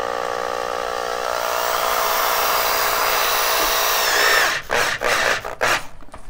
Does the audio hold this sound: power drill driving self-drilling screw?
yes